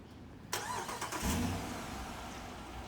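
A car engine catches abruptly outside a house after a quiet moment, then settles into a steady mid-pitched running hum nearby, with no speech.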